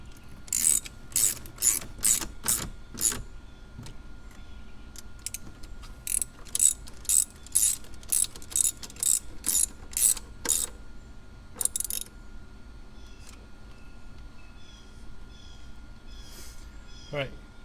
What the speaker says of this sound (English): Tighten your clamps back down.